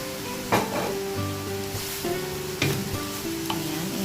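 Fresh spring roll vegetables, including mung bean sprouts and celery leaves, are stirred and tossed in a pan, giving a soft sizzle with a few sharp scrapes and clanks of the utensil against the pan.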